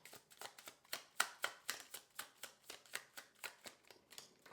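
A tarot deck is shuffled close up in a quiet room, giving a rapid run of about fifteen crisp riffling bursts, each a soft papery flutter, steady and even with no talking.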